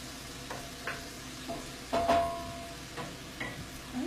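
Ground beef fries quietly in a pan with kale, mushrooms, carrots and onions, giving a soft, steady sizzle broken by several light scrapes and taps of a utensil against the pan.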